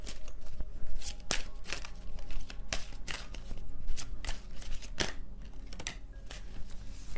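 Tarot cards shuffled by hand, a dense steady riffling and flapping with sharp slaps as the deck is cut and squared, close and fairly loud with no talk.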